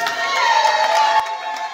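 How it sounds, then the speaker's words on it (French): An audience at a launch event for a women's training programme in Muanda, Congo, cheers and acclaims in a brief, loud burst of mixed shouting and voices. "Dans une ambiance de gratitude et acclamation de l'auditoire"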